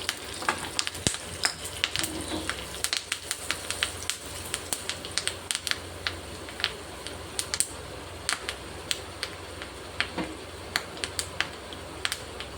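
Mustard seeds, cumin, curry leaves and asafoetida sizzle in hot coconut oil, with dense, irregular popping crackles scattered over a low hiss throughout, close and fairly quiet.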